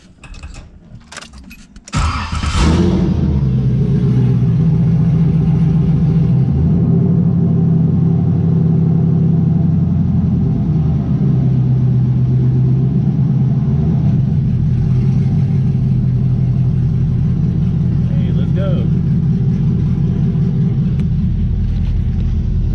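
LS V8 engine swapped into a Nissan 240SX, cranking and catching after a couple of seconds, then idling loudly and steadily with a deep rumble close by.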